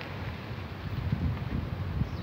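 Gusty wind roars steadily into the microphone, a dense rumbling rush with small surges, and no voices.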